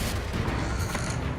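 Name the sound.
Confringo blasting curse explosion from the video game Hogwarts Legacy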